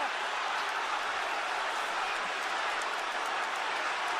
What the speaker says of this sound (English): You gotta hear the roar.